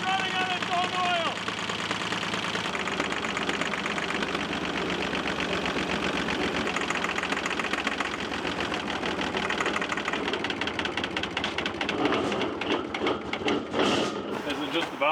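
A diesel engine set up to drive a flamethrower runs with a dense, steady chatter of rapid firing pulses and a knocking edge. The pitch shifts partway through, and people talk over it.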